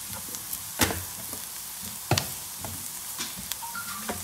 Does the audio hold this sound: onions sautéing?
yes